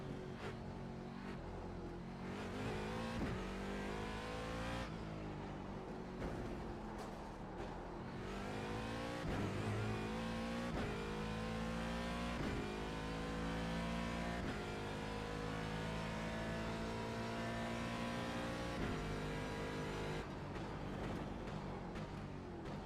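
The old Daytona prototype race car in iRacing screams through repeated gear changes, its engine pitch climbing and dropping in sweeping runs of acceleration and shifts, steady and fairly loud throughout with no talk.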